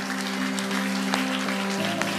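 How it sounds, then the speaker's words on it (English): A congregation claps for the children at a church service, a dense, steady wash of applause lasting a couple of seconds over a low hum. "Give them another big clap."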